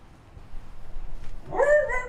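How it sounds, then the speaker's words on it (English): A cute little dog gives a short whimpering whine, rising and wavering for about half a second near the end, close by over a quiet room hum. "I'm being coerced by a cute little dog."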